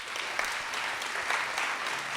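An audience at a clean energy and climate event claps together, a dense, steady wash of applause at moderate distance lasting throughout without voices.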